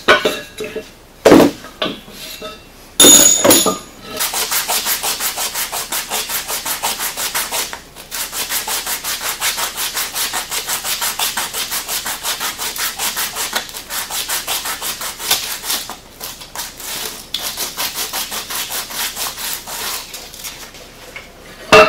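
A polyurethane suspension bushing sleeve is sanded down, with a long steady rasping grind that follows a few short scrapes and clatters, loud and close, broken by a brief pause partway through.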